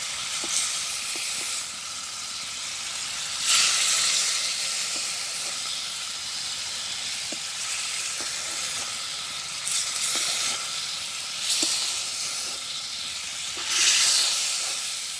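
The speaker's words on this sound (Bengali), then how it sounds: "তো ফুলকপিটা আমার কষানো হয়ে গেছে এটাও নামাই নেবো" Cauliflower sautéing in a pan in a village kitchen, giving a continuous close sizzle and steamy hiss with a few louder bursts and faint clinks, and no one speaking.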